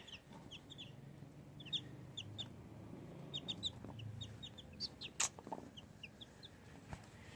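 A broody hen clucks softly in short, scattered bursts, with faint peeping chirps of newborn chicks around it against a quiet background.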